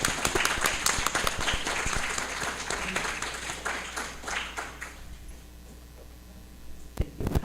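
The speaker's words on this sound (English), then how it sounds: "before we begin applause" A conference audience at a live-streamed skeptics' event claps loudly for about five seconds. The applause then thins to scattered claps and room murmur, with a couple of sharp late claps.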